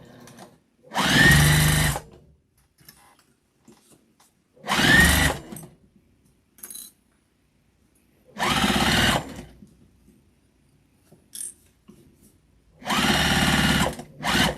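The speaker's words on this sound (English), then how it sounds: "now I'm just going to stitch the pocket shut" A sewing machine stitches a flannel scarf pocket shut, whirring loudly in four close bursts of about a second each, separated by quiet pauses with faint handling noises.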